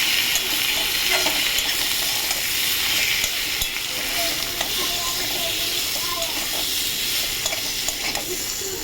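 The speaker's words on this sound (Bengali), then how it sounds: "তার সাথে দেব টমেটো কুচি। এটাকে কষবো" Spices and chopped tomato fry in a pan with a dense, continuous sizzle close by, and light stirring scrapes come through at intervals.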